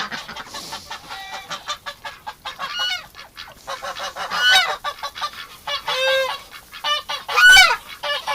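A goose honks loudly and repeatedly inside a winter duck pen, harsh calls coming in quick bursts close by, with clucking fowl mixed in.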